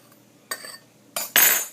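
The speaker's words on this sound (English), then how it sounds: "Fill my spoon. Whoops. Shave off the top so I have a level spoonful." A tablespoon scraping through powdery cream of tartar and leveling off the top, heard as three short dry scuffs and clinks of metal against a container, the last one louder and longer.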